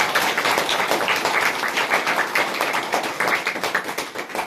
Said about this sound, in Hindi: दिल से हम सभी ताली बजाते हैं